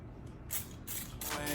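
A few quick hissing spritzes from a spray bottle, three short bursts in a row, faint and close.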